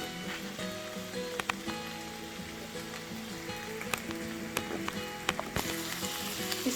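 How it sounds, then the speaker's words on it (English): Capsicums cooking on low heat in a pan, a soft steady sizzle with faint crackles and occasional sharper pops, heard alone and fairly quiet. "Now we're going to cook it on low heat"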